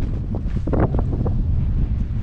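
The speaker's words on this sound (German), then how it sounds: "Alter, dieser Wind!" Strong gusting wind buffets the microphone while rock climbing on the Falkenstein in Saxon Switzerland, a loud continuous roar with no talking.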